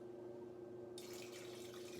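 A cup of water is poured into a pot of sauce, producing a soft, steady splash that begins about halfway through and continues quietly to the end.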